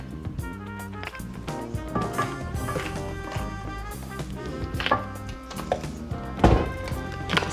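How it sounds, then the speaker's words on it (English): Black pepper is cracked from a pepper grinder over homemade mashed potatoes in a series of quick, crunchy grinding clicks. Tonal background sound runs underneath. "I reloaded my black pepper, so let me do a few cracks in here"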